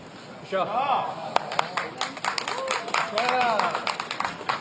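A golf gallery at a women's professional tournament in Yong Pyong applauds a shot with scattered, uneven clapping that swells and lingers, mixed with crowd murmurs and talk.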